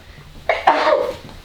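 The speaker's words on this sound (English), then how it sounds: "You're coughing, sneezing." A single person's sharp, explosive burst that could be a sneeze or cough, loud and close, followed by a rough, drawn-out exhale, with no talking.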